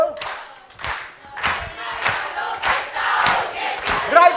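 An audience of senior citizens claps along in a steady, rhythmic beat to a song at a laughter session, with sharp, evenly spaced group claps and some voices in the background.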